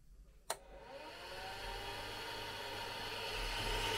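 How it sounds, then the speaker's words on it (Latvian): A small electric fan inside a Creality filament dry box starts with a sharp click, then spins up into a steady, close whirring hum that holds evenly to the end. "Un ventilators strādā."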